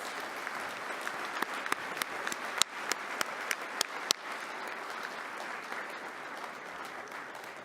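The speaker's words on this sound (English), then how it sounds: "So please join me in giving Staff Sergeant Formby and Senior Airman Swain a round of applause." Sustained audience applause at a 2019 Department of Defense travel excellence awards presentation, a steady wash of many hands clapping with a few sharper, closer claps standing out, no talk over it.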